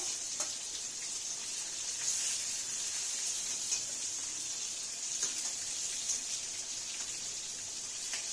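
Hilsa fish pieces fry lightly in a pan, giving a steady, even hiss of hot oil with faint crackles, close and continuous throughout.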